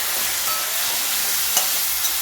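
Chopped green chili and tomato fry in hot oil in a pan, giving a loud, steady, dense sizzle with a faint stir or clink partway through.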